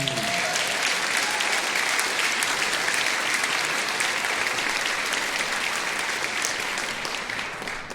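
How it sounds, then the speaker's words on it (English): A community band concert audience applauds steadily and loudly for the whole stretch, a dense wash of clapping that holds even and begins to thin slightly at the very end, with no talk over it. "applause for Paul Olofsky."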